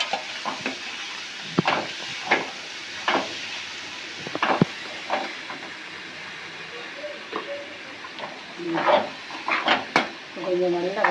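Cauliflower sautéing in a pan for gravy, a soft sizzle beneath intermittent spoon scrapes and clinks against the pan, with a voice talking briefly over the cooking toward the end.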